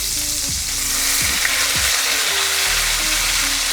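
Steak sizzling loudly in a hot pan while it is flipped and basted for a sandwich. A dense, continuous fry hiss stays close and strong throughout, with periodic spoon clinks from the basting.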